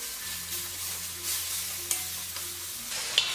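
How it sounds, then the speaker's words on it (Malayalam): Chicken pieces frying in oil in an uncovered pan for a Kerala-style chicken varattu, with a steady close sizzle and spatula stirring, plus a faint background tone. "ഇനി നമുക്കിത് അടപ്പ് മാറ്റിയിട്ട് ഇളക്കി കൊടുക്കാം"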